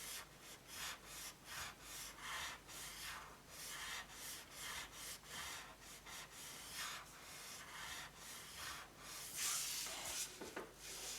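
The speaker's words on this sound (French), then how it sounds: "à l'aide d'une estompe, je vais simplement accentuer ce trait" A blending stump rubs along a drawing line on paper, giving soft, steady back-and-forth scrubbing strokes in a quiet close-up, with no talking.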